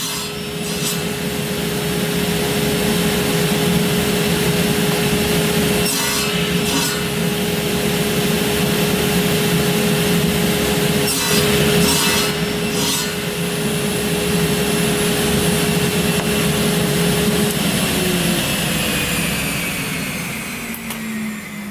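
Saw making repeated cuts across a wooden workpiece guided by a sled, giving a loud continuous whirring, rasping drone with brief bursts as the blade bites into the wood.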